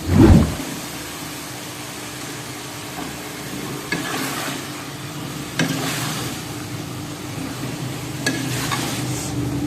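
Potatoes dropped into a hot pan of mixed vegetable sabji, opening with a loud clatter, then a steady sizzle with occasional scraping stirs spread across the clip.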